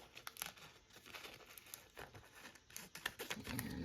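Paper being cut for junk journal envelopes, close crinkling and papery snipping with quick repeated crisp ticks over a steady rustle.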